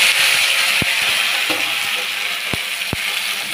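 Cut pumpkin pieces frying in a pan with black cumin, giving a steady, fairly loud hiss and sizzle throughout, with a few sharp clicks of a utensil against the pan.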